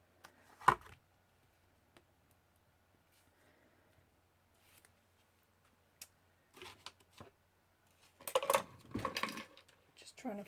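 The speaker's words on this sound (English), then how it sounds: "Trying to find a paintbrush here" Rummaging through craft supplies for a paintbrush, scattered light clinks and rattles with quiet gaps between, close and fairly soft.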